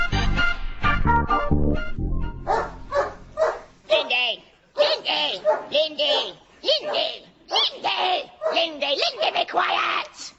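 A red setter barks at rats in a yard, giving a rapid run of loud, close barks and yips mixed with high whiny vocal sounds, while a voice shouts over the start.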